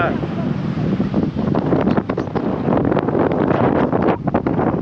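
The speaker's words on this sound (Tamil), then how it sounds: "காற்றும் பயங்கரமாக அடிக்குது, அலையும் பாருங்க பயங்கரமாக வந்துட்டு இருக்கு" Strong wind buffets the microphone with a loud, steady roar while Indian Ocean waves surge and wash underneath at Dhanushkodi, continuous throughout.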